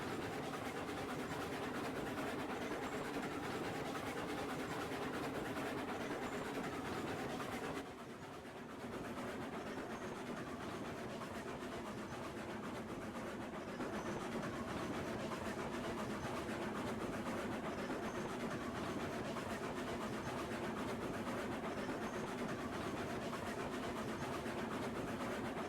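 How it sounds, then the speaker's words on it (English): A steam-era train runs on tracks in Railroads Online, giving a continuous rumbling, clattering roll with a steady engine drone for the whole stretch, broken only by a brief dip, and no voices over it. "watching the train behind me just like weave itself in and out of the train tracks"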